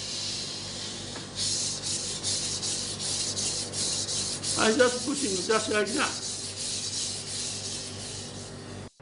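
A Japanese knife is pushed and rubbed across a wet water stone with a steady, gritty scraping. A close voice speaks briefly over it midway.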